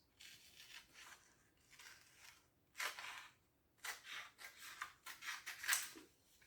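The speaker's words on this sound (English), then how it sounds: "I'm going to trace here. I'm going to cut that out." Paper scissors cutting out a traced paper shape for a dollhouse craft, a series of crisp snipping bursts in irregular clusters, close and fairly quiet, with no talk.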